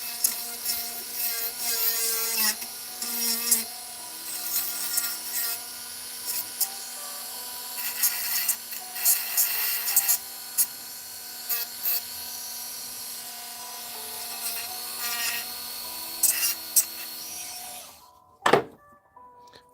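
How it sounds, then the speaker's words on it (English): Steady rasping strokes of a file taking a burr off a workbench part, repeated rubbing scrapes over a constant background hum, ending in a sharp knock and near silence. "Just gonna get the burr off here quick."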